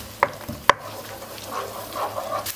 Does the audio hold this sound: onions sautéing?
yes